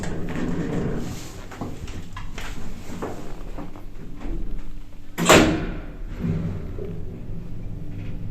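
An Otis Europa lift with a doorless car runs in Madrid with a low mechanical hum, then a single loud thud or slide of the landing door clunks near the middle before the hum continues.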